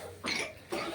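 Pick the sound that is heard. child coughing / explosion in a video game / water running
child coughing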